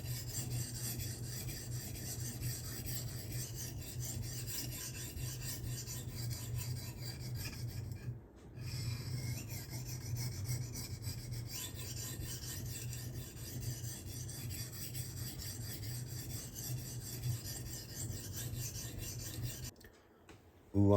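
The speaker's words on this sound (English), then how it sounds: "Ooh, I'm loving the way this is sharpening." A knife blade is being sharpened with steady, continuous rasping strokes that run close and loud, with two brief pauses in the scraping and no talking.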